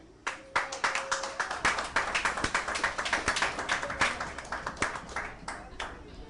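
A live studio audience claps in quick, dense bursts that swell and then taper off, loud and close, with faint cheering mixed in.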